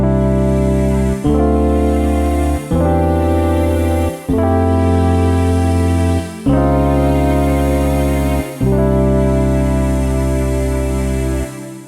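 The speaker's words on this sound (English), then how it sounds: "the EP Vox string bass chord memory" A Roland FA-06 patch layering electric piano, vocal pad, strings and bass plays a chord-memory progression of about seven full, sustained chords, each changing with a brief gap, loud and close with no talking.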